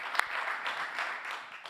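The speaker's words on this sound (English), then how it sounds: "Big round of applause, Patrick." A brief patter of applause from a modest crowd at a basketball league draw event, fairly faint and distant, with one sharper clap near the start.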